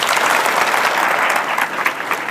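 A lecture audience breaks into applause, a dense, steady crackle of many clapping hands held at an even level for a couple of seconds with no voices over it.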